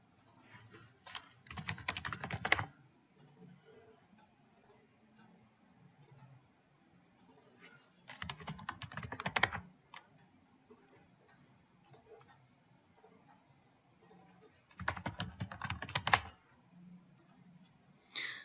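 Typing on a computer keyboard while entering a view label in drawing software: three separate bursts of rapid, close key clicks, each lasting one to two seconds, separated by quiet gaps with faint scattered taps.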